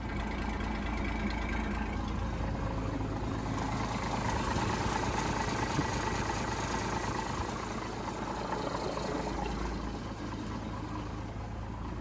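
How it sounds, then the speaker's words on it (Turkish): A car engine idles steadily and loudly for the whole stretch, a dense low rumble close by with no speech over it. "Araba çalışıyor şu an ya."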